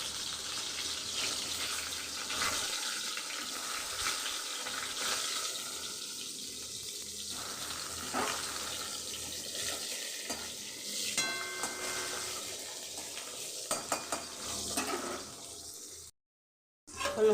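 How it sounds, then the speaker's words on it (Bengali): Pointed gourd (potol) slowly frying in a pan in a home kitchen, a soft continuous sizzle with occasional stirring scrapes and light clinks, ending with a brief silence and a few closer knocks. "আস্তে আস্তে পটলটা ভাজা হোক।"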